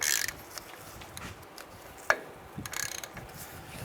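A ratchet wrench loosens a 27 mm front wheel bearing nut on a 1992-1996 Ford F-150, giving short bursts of clicking with one sharp metallic knock, close up and fairly quiet, with no talk.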